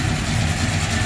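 A 1978 Ford Courier truck engine idling steadily with a low, even rumble and constant loudness throughout, heard close with no talking.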